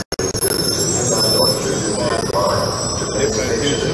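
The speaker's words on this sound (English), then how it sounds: "The train behind me is not owned by the federal government. This is a New Jersey train." A New Jersey double-decker commuter train rumbles past close by with a steady, loud roar and screeching wheel squeal, continuous throughout.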